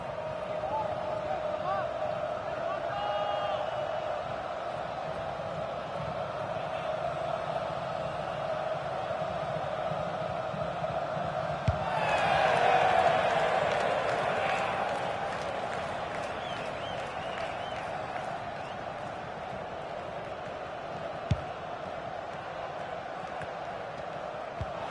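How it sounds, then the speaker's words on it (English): A stadium crowd in the FIFA 19 football video game does a Mexican wave, a steady roar that swells into a louder cheering surge midway, all under continuous commentary. "Not been much to shout about, but the crowd indulging in a Mexican wave."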